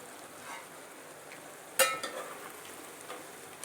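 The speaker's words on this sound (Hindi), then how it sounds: "ताकि हमारे जितने भी मसाले डाले थे वो अच्छे से भून जाए" Spices frying in a pan for a mutton and pumpkin dalcha, a soft continuous sizzle with a sharp clink of the stirring utensil partway through, followed by faint scraping.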